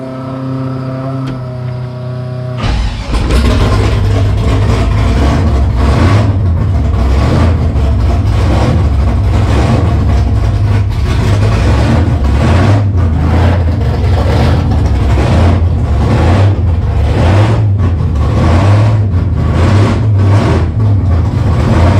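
A Henry J gasser project car with a 327 V8 and four-speed fires up on its first start after a short whirring prelude, then runs loud and rough with an uneven, lumpy idle close by.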